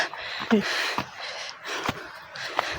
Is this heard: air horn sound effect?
no